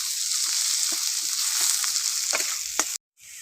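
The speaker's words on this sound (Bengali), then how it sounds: "পেঁয়াজটা আমি একটু লাল লাল করে ভেজে নেব" Chopped onion fries in a pan for a prawn and cabbage recipe, with a bright steady sizzle and several soft stirring scrapes close up, cutting off abruptly near the end.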